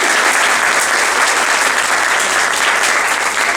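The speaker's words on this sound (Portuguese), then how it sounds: "Mais uma salva de palmas para eles, por gentileza." Audience applause at a Fatec Assis ideathon presentation, a dense steady clapping from a whole crowd that holds evenly for the full few seconds without pause.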